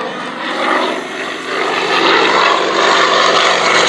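Aerobatic propeller aircraft flying a display at the East Kirkby airshow in Lincolnshire, a loud, sustained engine drone that swells and shifts in pitch as it passes and rolls overhead.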